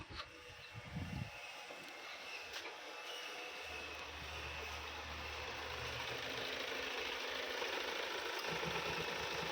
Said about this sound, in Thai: แต่ต้องยอมรับเลยว่าเครื่องดีเซลนี่เสียงดังจริงๆนะครับ